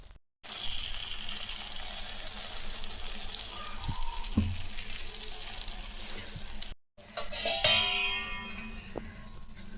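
Oil hitting a hot kuzhi paniyaram pan while drumstick-leaf paniyaram cooks gives a steady, close sizzling hiss, broken by two brief silent gaps, with a louder crackle near the end.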